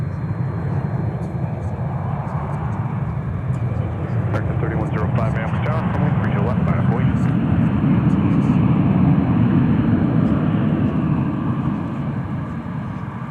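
Aircraft engines at Minneapolis–St. Paul Airport produce a continuous loud roar that swells slightly in the middle, with a person talking over it for part of the time.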